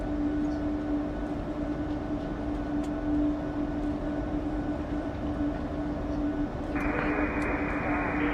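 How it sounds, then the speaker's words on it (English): An airliner's auxiliary power unit starts up at the gate before a Dallas–Fort Worth to Omaha flight, heard from inside as a steady droning hum with a constant tone, and a higher whine joins near the end. "We're going to be starting the APU now."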